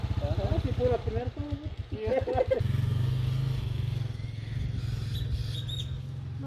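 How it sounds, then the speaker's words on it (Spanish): A motorcycle engine labors and chugs in first gear on a storm-damaged road, pulsing near and loud under people talking, then settling into a steady low rumble. "Se ahoga la moto, sí, son mías. Se ahoga por pura primera."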